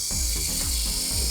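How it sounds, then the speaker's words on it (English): Sandpaper rubbing a wooden tenon spinning on a lathe, a continuous loud close abrasive whir with rhythmic rasping sweeps as the paper moves back and forth, no voices. "turn it over, and we'll sand the tenon"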